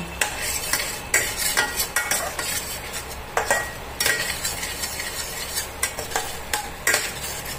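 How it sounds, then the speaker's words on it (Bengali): Turmeric powder being stirred into a green fish curry, a spoon scraping and clinking against the pan in irregular strokes over a soft sizzle. "খুব অল্প পরিমাণে হলুদ গুঁড়ো, মিশিয়ে নিচ্ছি।"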